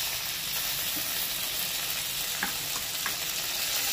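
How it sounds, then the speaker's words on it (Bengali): Cashew paste sizzles in hot oil in a pan, a steady, close frying hiss with a few faint pops and no talking. "এর মধ্যে দিয়ে দেবো কাজু বাটাটা"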